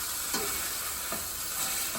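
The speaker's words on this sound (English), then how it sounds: "Like pop the tomatoes with the back of the spoon." Tomatoes pressed and popped with the back of a spoon in a sizzling pan, steady frying hiss broken by a few soft scraping squelches spaced apart.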